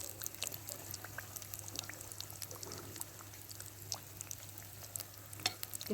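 Samosas fry gently in oil over low heat, a steady fine crackle and sizzle with scattered sharp pops, close and continuous, over a faint background hum.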